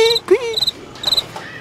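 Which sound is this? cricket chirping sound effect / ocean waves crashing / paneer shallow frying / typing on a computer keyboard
cricket chirping sound effect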